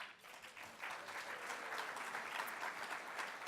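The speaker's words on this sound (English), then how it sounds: "Let's give our sponsors, all of our sponsors, another round of applause." Steady, sustained audience applause at a San Marcos Chamber of Commerce State of the City Address, a dense wash of many hands clapping together, fairly far off and holding even throughout.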